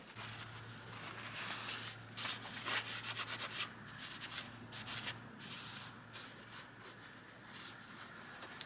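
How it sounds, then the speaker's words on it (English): Rag wiping an engine sealing surface with brake cleaner on a turbo Miata engine build: steady close rubbing and scrubbing strokes with brief louder swipes, continuous throughout with no talking. "we're gonna wipe this sealing surface down with brake clean, and same with this sealing surface"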